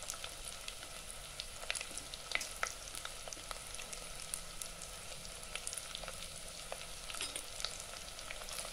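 Ginger and green chili sautéing with onion in a pan for a moru curry, a steady close sizzle and crackle with scattered sharper pops throughout.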